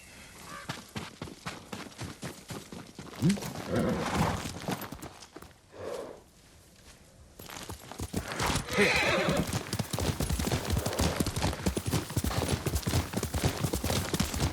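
Horse hooves clip-clop at a steady walking rhythm in Ghost of Tsushima, broken by a clear whinny near the middle, with occasional faint voices.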